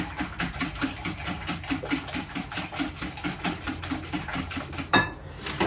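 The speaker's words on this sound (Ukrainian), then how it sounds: "яйця збила, додаю сюди молоко, перемішую" A whisk or spoon beats rapidly against a bowl while beaten eggs and milk are mixed for pancake batter, a fast even clatter kept up close throughout with one louder knock near the end.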